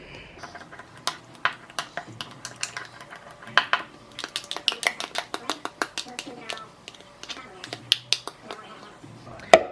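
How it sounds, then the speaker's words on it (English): Spoon scrapes and taps inside a jar of keto-friendly peanut butter during stirring, a close run of irregular clicks and knocks with short pauses between them. "I'm going to stir the peanut butter."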